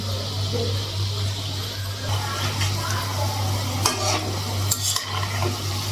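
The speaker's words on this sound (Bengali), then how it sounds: "আরেকবার লাগালে বড়াগুলো ভাজা হয়ে যাবে" Bora fritters frying in a pan: a continuous close sizzle of hot oil with a steady low hum underneath and a few brief utensil clinks near the end.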